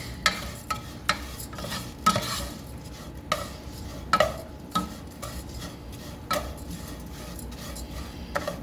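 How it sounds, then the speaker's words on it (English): Noodles brown in a pot for sopa de fideo, giving a steady soft sizzle broken by regular scraping clinks as a utensil stirs against the metal, close and fairly quiet. "And what I do is just brown the noodles a little bit."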